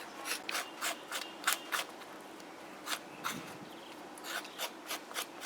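A knife scrapes the thin skin off a chichira, a run of short, dry rasping strokes in an uneven rhythm, close and fairly quiet.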